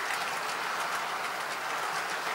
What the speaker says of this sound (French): Là en ce moment nous avons une machine Renfe qui est en train de la traverser.